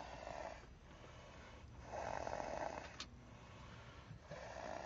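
A man asleep and snoring, several slow rhythmic rasping breaths about a second or two apart, faint and close over a quiet hiss, with no talking.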